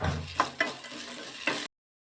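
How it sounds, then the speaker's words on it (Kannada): Curry leaves tossed into hot oil for a bisi bele bath masala crackle and sizzle with a few soft stirring scrapes and clinks, lasting under two seconds before cutting to silence. "ಆಮೇಲೆ ಸ್ವಲ್ಪ ಕರಿಬೇವು ಹಾಕ್ತಾ ಇದ್ದೀನಿ"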